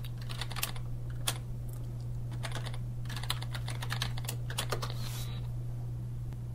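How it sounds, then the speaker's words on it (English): Steady keyboard typing on a computer while a username is entered at a login screen, a run of quick, close, fairly even keystrokes over a constant low hum, with no talking. "now you're going to put in your pre-established username"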